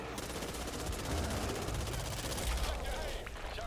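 Automatic gunfire shooting at bugs in Back 4 Blood, a continuous rapid rattle of shots, loud and sustained throughout, with heavier low thumps from impacts or explosions mixed in.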